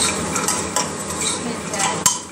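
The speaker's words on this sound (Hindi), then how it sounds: "एक मिनट तक भूनेंगे हम लोग ताकि इसमें अच्छे से मसाला" A spoon scrapes and clinks against a pan as potato and badi curry with masala is stirred, under a steady frying sizzle, close and busy with one sharp knock near the end.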